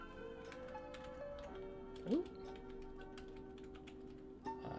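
Computer keyboard keys tap in faint, irregular clicks over a quiet, steady tonal background, with one brief swooping tone standing out midway.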